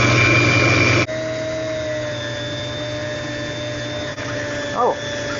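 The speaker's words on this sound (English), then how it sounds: "they want you to whip it until it's nice and light" Electric mixer whipping tamale masa until light, a steady close mechanical whir that drones on continuously, with a brief shift in pitch partway through and a voice speaking over it near the end.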